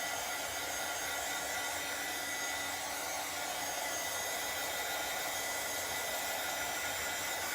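A heat tool drying ink on a Chalk Couture craft project blows with a steady, loud, broadband whoosh that holds constant for the whole stretch with no talking.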